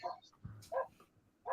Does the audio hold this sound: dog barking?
yes